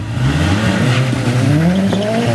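Nissan 200SX and EVO 9 race cars spinning their wheels at the start, engines revving loud and close with rising pitch sweeps and tire squeal over a steady mechanical roar.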